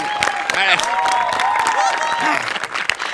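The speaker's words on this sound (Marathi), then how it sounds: "एकदा जोरदार टाळ्या तिच्यासाठी" An audience claps for Shivali Parab on the Marathi comedy show Maharashtrachi Hasyajatra. The fairly loud applause is mixed with cheering voices and tonal whoops throughout.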